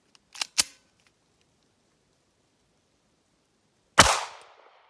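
A Ruger LCP Max fires Sierra 90 grain .380 JHP rounds, with two sharp shots fired close together and then one louder, nearby report with a short ringing tail.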